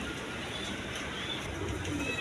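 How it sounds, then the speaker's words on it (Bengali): Pigeons coo at a Bengali pigeon farm, a breeding pair among mixed breeds, their low murmuring steady through the clip under faint background noise, with a voice also speaking. "এখানে এক পেয়ার কবুতর আছে, আপনার নিউ অ্যাডাল কবুতর"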